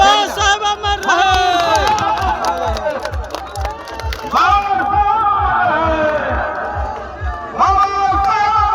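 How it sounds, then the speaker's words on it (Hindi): A large crowd at a rally honouring Babasaheb Ambedkar claps in a steady rhythmic beat while people cheer and shout together, loud and close, the noise swelling in waves. "ताली बजाइए, बाबा साहब अमर रहे।"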